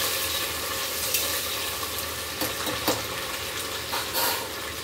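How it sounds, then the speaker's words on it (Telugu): Chicken biryani ingredients with fresh coriander and mint frying in a pan, a steady close sizzle with occasional soft stirring clicks and no voices. "కొంచెం కొత్తిమీర, కొంచెం పుదీనా వేసుకొని ఇవి బాగా ఫ్రై అవ్వాలి."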